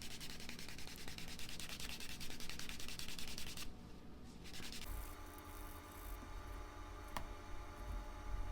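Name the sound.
burnishing leather edge with a wood slicker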